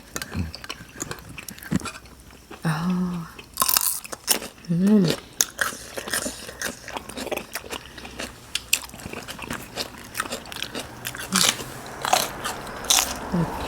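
Crisp fresh vegetables crunch between the teeth alongside a spicy beef stew, with repeated close bites and chewing in irregular bursts, while a person murmurs and talks between mouthfuls.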